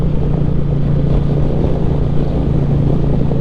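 A 2025 Indian Chieftain Powerplus performance bagger motorcycle's big engine rumbles steadily while riding, a loud low drone mixed with wind rush throughout.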